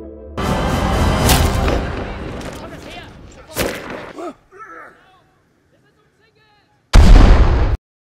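Film battle scene with a mysterious sniper firing shots and hurling grenades: a long roaring burst of gunfire and blasts, a sharp crack, a lull with faint rumbling, then one loud explosion near the end.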